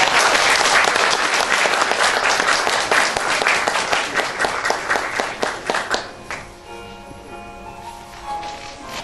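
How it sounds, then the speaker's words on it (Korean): A crowd applauds warmly at a brand award ceremony as a city receives its award. The clapping is loud and dense, then thins into scattered individual claps and fades toward quiet. "여러분 뜨거운 박수로 축하해 주시기 바랍니다"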